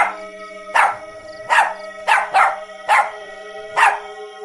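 A dog barks loudly and repeatedly, six sharp barks spaced about half a second to a second apart, close and clear over a faint steady background hum.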